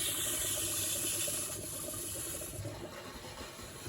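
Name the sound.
water sputtering from tap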